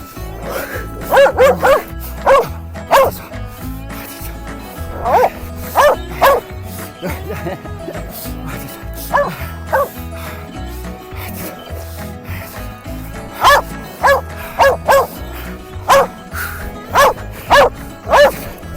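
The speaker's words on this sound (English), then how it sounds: "Good dogs, good dogs." Dogs bark in repeated sharp bursts across the whole stretch, loud and close, over steady rubbing and scraping of wooden logs.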